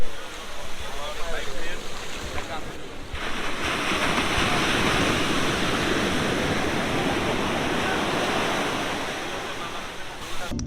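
Sea waves roll onto Sugandha beach at Cox's Bazar at night, a steady, loud surf roar filling the whole clip, with a brief dip near the start and faint crowd voices mixed in.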